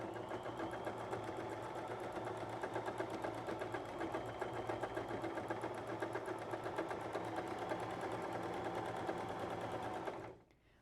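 A Bernette b33/b35 sewing machine fitted with a walking foot stitches at a steady fast hum, close and continuous, then stops abruptly just before the end.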